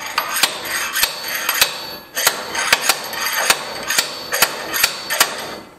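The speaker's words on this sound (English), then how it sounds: "try to knock this in a bit with the sledgehammer to crack the rust" A sledgehammer knocks on a rusted forklift tilt cylinder pin, sharp metallic strikes landing about twice a second in an uneven series, loud and close with no voices.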